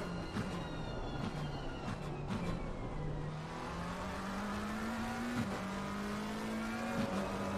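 Low-pitched Formula 1 race car engine in a racing video game, droning steadily throughout at a fairly constant deep pitch with brief dips and rises around gear changes, loud and continuous with no talking.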